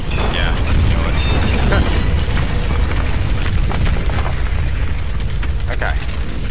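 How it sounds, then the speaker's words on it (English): Loud, dense rumbling roar of an explosion in Tomb Raider Definitive Edition, a continuous blast-and-debris wash with crackling bursts throughout, close and heavy, with no talk over it. "Oh, is that gonna explode?"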